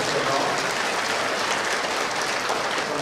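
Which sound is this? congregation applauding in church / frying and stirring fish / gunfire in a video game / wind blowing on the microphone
congregation applauding in church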